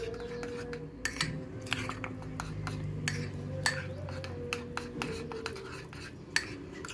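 A spoon stirs a cornstarch mixture for savory croissant dough made from msemen dough, producing repeated sharp clinks and scrapes against a bowl over a low steady hum, close and fairly quiet.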